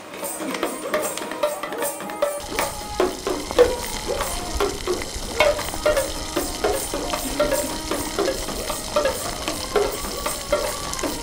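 Puris deep-frying in a big pan of oil at an Amritsar puri-choley shop: continuous loud sizzle broken by rhythmic metal clatter of a slotted ladle, busy and close, with faint voices in the background.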